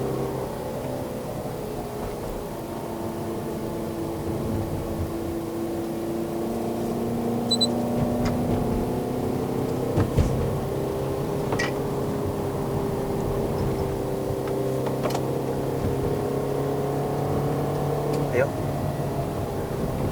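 A Toyota Estima 2.4L XR50 minivan drives up a Malaysian hill road toward Genting and overtakes traffic, its engine a steady droning hum with rising and falling pitch as it accelerates; someone speaks over it.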